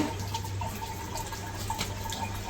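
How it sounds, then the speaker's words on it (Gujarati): Water runs from a household tap into a basin, a steady close splashing flow with faint drips, with no talk over it. "નળ બંધ કરી દો હવે."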